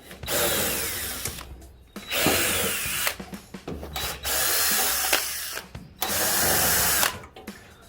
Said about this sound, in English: We're going to remove those 4 screws and put a new fan on